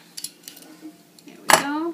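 A knife chops potatoes on a board in a few quick, sharp taps, followed by a louder clatter and a brief voice at the end.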